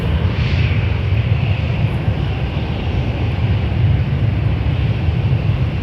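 Boeing 737 airliner in WestJet Swoop livery at Toronto Pearson Airport, its engines giving a steady, broad roar that holds level throughout, with no talking over it.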